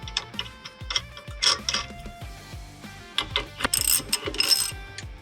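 A ratchet wrench tightens the bolt on a Grant billet steering wheel install kit, close rapid clicking in quick back-and-forth strokes with brief pauses between bursts and no voices.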